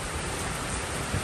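Heavy rain on a morning in Churchton, Guyana, a dense, steady roar of downpour filling the whole moment, loud and unbroken with no voices.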